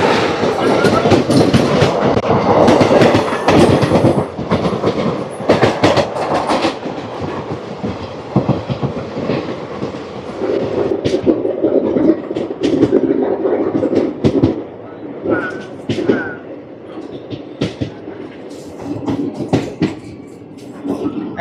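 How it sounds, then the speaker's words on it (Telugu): The 17480 Puri Tirupati Express rushes past near Vijayawada in a loud, sustained roar of wheels and rattling carriages with clickety-clack beats, heard close from a moving train, with voices faintly underneath. "17480 పూరి తిరుపతి ఎక్స్ప్రెస్."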